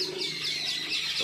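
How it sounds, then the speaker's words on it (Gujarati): Birds chirping outdoors beside a clear natural spring, a faint, continuous high twittering with repeated warbling phrases and no voices. "પક્ષીઓનો અવાજ મિત્રો"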